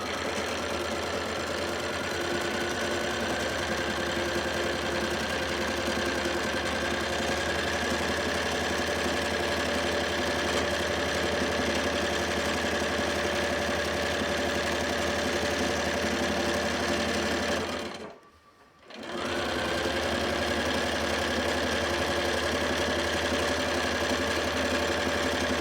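Sewing machine stitching a pillowcase quilt, running as one steady, even mechanical hum that stops briefly near the end and then resumes. No one speaks.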